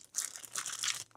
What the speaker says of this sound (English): That noise is my dog chewing a freaking bone.